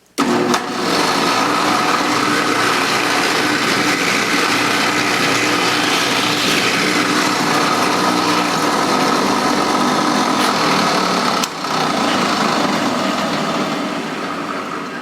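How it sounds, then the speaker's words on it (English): A drill whines steadily at high speed, loud and close, boring a clearance hole in a guitar bridge, running continuously with a brief dip near the end. "now we have to drill another clearance hole on the other side of the slot"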